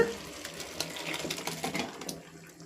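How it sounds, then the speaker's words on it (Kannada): Spiced masala water poured into a pot of mutton sambar, a short burst of splashing and bubbling liquid at close range, with no talking. "ಇವಾಗ ಮಸಾಲೆ ನೀರನ್ನು ಹಾಕ್ಕೊಳ್ತಾ ಇದ್ದೀನಿ"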